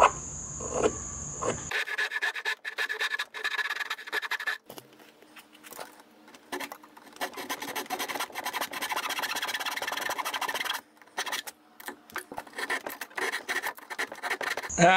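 Power cutting tool rasping through the keel of a small 7.5-foot homemade boat in a garage, a steady gritty grinding that runs nearly continuously with brief pauses and restarts, loud and close.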